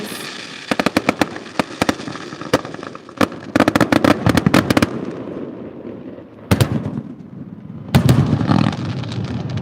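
New Year's Eve fireworks at Port Stephens, Australia burst in irregular clusters of sharp cracks and booms, some rapid crackling volleys, loud and nearby with rumbling echoes between.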